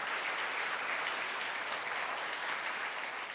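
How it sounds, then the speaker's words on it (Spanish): A church congregation claps hands in gratitude during a worship service, a dense, even wash of many hands that holds steady for several seconds, moderately distant and without speech. "Dele fuertes palmas a nuestro Dios con gratitud en nuestros corazones"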